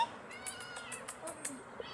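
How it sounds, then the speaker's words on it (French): Two kittens meow in a series of short, high cries spaced through the moment, soft and close, with a voice and other chatter underneath. "Il y a 2 chats."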